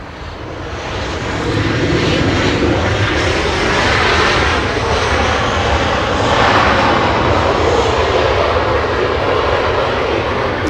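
A heavy jet airliner roars past at Los Angeles International Airport, its loud, steady broadband engine rumble building within the first couple of seconds and holding close and strong throughout, with no talking.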